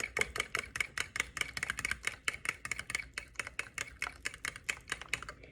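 A whisk beats almond milk into chocolate donut batter in a bowl, making rapid, steady clicking taps against the bowl close by.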